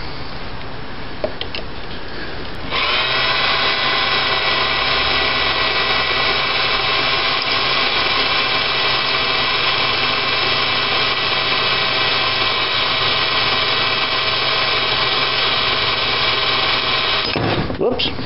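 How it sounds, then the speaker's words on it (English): A power drill drills into a bolt on a 1978 Dodge Power Wagon alternator mount, whining steadily at high speed for a long stretch, loud and close, starting abruptly after a few seconds and cutting off near the end. "Looks like it's going to drill all right."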